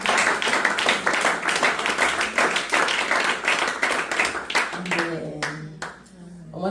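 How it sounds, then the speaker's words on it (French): Congregation at a French-speaking prayer retreat clapping and cheering in praise of the Holy Spirit, dense rhythmic handclaps with voices mixed in, thinning toward the end as a sustained tone rises. "Est-ce qu'on peut acclamer pour le Saint-Esprit?"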